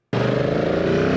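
Loud, steady motorcycle engine drone with heavy wind buffeting, starting abruptly and holding constant throughout.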